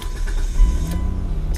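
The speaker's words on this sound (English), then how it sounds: "I'm gonna move the car back actually" A car engine starts and idles as the car is about to be moved, a low steady rumble with a brief rise in the middle, heard from inside the vehicle with no talking.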